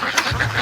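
Ducks quack in a short, close burst, one brief nasal call after another, loud and clear with no talking.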